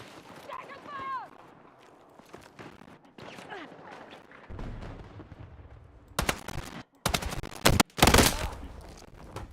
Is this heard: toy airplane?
no